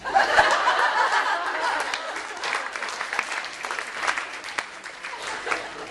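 An audience at an evening medical seminar bursts into applause with scattered laughter mixed in, loud at first and then thinning to lighter, sparser claps.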